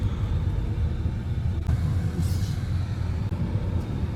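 McLaren and Ferrari sports cars drive by on a road after the Le Mans Classic event, producing a heavy, steady low engine and road rumble that holds near and loud throughout, with no talk.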